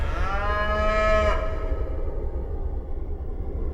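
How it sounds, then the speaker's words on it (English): Free-range cattle on the open range of western North America give a loud, drawn-out moo lasting about a second, then fade to a quiet outdoor background hiss, with no voices. "In the wide open spaces of western North America, free-range cattle are thriving."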